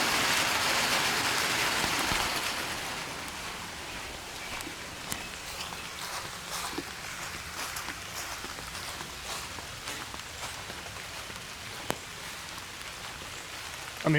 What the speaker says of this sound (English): Oh, it's raining harder than I thought.